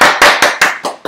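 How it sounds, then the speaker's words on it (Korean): Audience at a real estate auction seminar clapping, about six sharp, evenly spaced claps in quick rhythm, close and loud, with nothing else heard. "자, 박수."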